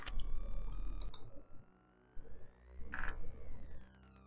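A Grainos granular module in VCV Rack feeds a resonator in sympathetic string mode, giving sparse clicks and ticks with ringing, sliding harmonic tones, faint and intermittent with short silent gaps.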